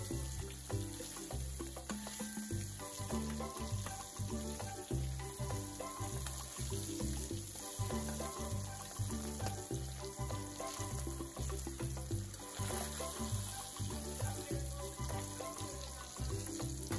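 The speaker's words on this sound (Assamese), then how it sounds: "আগতে এনেকৈ শিঙি মাছখিনি ভাজি ল'লোঁ" Singhi catfish frying in hot oil gives a steady crackling sizzle with rhythmic low bubbling pulses, close and continuous throughout.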